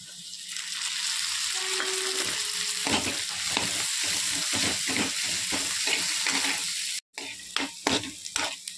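Tomato and carrot fry in a pan for egg fried rice, a steady sizzle broken by rhythmic stirring and scraping strokes, with a brief pause near the end before the stirring resumes.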